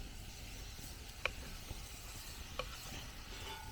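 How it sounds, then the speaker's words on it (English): Steak browning in a pan with onions, mushrooms and herbs over a camp fire, giving a faint, steady close sizzle with a couple of soft clicks of stirring and no voices. "Now I'm going to get the steak in."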